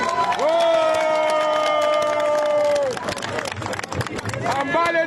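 A crowd at a Paris rally of the Senegalese diaspora applauds and cheers loudly, with long sustained shouts or ululating voices over steady clapping that drops briefly midway and then swells again.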